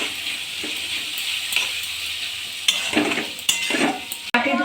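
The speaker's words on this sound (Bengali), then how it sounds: "যতক্ষণ না আদা রসুনের গন্ধটা চলে যায় ততক্ষণ পর্যন্ত ভালো করে একটু নেড়ে নেব।" Ginger garlic paste frying in oil for egg biryani, with a steady close sizzle and a spatula scraping and stirring in uneven strokes that grow louder toward the end.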